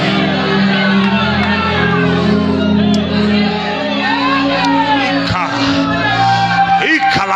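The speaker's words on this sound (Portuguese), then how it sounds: "Abre a boca e dá o maior grito que você pode." A congregation at a church missions congress shouts loudly for several seconds, a dense roar of many voices with whoops and yells rising and falling, close and sustained.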